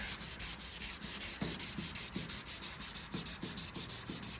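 Block sanding the clear coat on a car panel to remove runs and debris: a close, steady rasping scrub in a quick back-and-forth rhythm of repeated strokes, with no talking.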